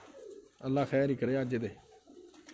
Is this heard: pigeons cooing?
yes